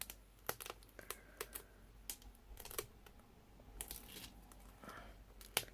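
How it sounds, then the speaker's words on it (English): Bits of sticky paper peeled off during shaker-card making with stitched shape framelits, giving a string of soft, sharp crackling and tearing snaps at irregular intervals, close and fairly quiet with no talking. "Then I'm going to remove all of the bits of sticky paper."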